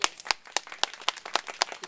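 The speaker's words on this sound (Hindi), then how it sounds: "एक बार ज़ोरदार ताली बजा के" An audience claps in a steady rhythmic beat, about eight sharp, distinct claps in under two seconds, fairly faint and with no voices.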